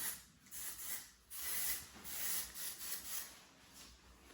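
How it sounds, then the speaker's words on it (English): Texturizing hair spray is sprayed through curly hair in several short, close hissing bursts separated by brief pauses. "Okay, so one more time with the texturizing spray."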